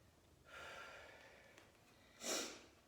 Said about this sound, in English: Excuse my sniffing